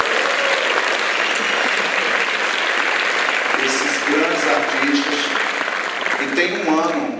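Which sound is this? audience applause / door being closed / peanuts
audience applause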